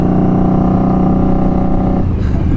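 A custom 2019 Indian Scout Bobber cruiser motorcycle with a loud aftermarket exhaust drones steadily and close by, a deep throaty rumble that shifts and breaks up near the end.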